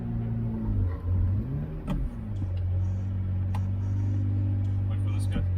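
A rare Lamborghini engine is held steady around 3,000 RPM before a launch, a deep, close, even drone that dips and swells briefly early on and then holds, with people talking over it.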